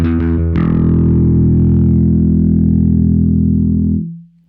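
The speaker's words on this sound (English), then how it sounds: "I'm going to start off on the bridge pickup" A single sustained, distorted note from a Michael Kelly Vintage Element bass through a pedal on the bridge pickup rings out after a couple of quick plucks, thick and buzzy with a bright edge, then fades out near the end.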